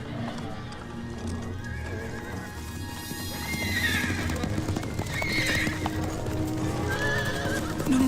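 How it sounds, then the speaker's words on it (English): Horses whinny several times over a steady clatter of hooves, with a tense outdoor bustle and people talking in the background. "The horses."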